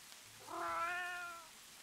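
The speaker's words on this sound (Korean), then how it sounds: "또다시 고양이 울음소리가 들리기 시작했다." A single cat meows once in a drawn-out, rising-and-falling cry lasting about a second, fairly close and clear against a quiet background with no talking.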